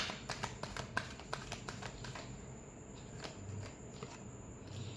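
Rapid papery riffles and soft slaps of tarot cards being shuffled close by, quick bursts in an uneven rhythm that thin out toward the end, with no speech over them.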